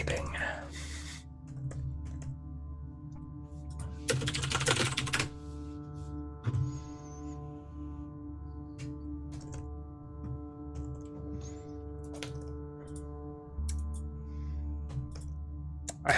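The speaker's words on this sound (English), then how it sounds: "Furious typing." Rapid keystrokes on a computer keyboard in bursts of quick clicks over a steady electrical hum, with a couple of louder thumps along the way.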